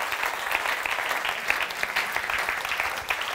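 An audience in a German-language talk or workshop setting applauds steadily, a dense, even wash of many hands clapping close by with no pauses.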